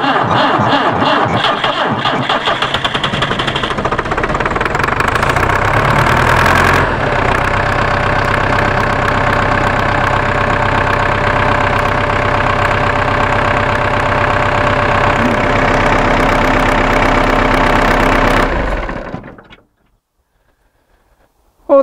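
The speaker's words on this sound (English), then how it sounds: "There's another way to start an engine on a cold morning." A tractor engine is started on a cold morning, catching after a rough start and settling into a steady, loud, close idle that runs for about twelve seconds before cutting out abruptly.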